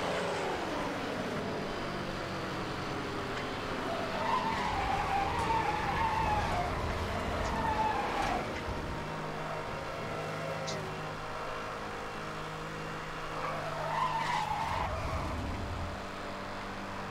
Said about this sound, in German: Das war jetzt ein guter Drift.